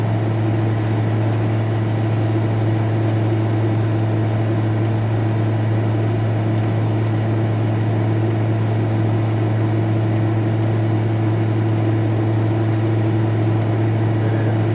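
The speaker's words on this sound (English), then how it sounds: "This van's quite noisy, have you noticed?" Steady engine drone from inside a moving van on the road from Edinburgh towards Alloa, a constant low hum with a faint whine above it, continuous and fairly loud, with no talking.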